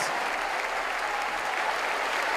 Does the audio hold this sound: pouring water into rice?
no